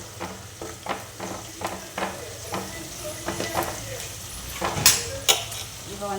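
Onions frying in oil in a home kitchen pan for a Tamil bitter gourd curry, a steady soft sizzle with repeated stirring scrapes and an occasional clink of utensils, close by.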